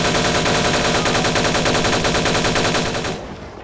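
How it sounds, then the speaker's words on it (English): Rapid, loud gunfire in Vampire the Masquerade Bloodlines, a dense automatic burst that fires continuously for about three seconds and then abruptly trails off. "Man, those gunshots are so loud."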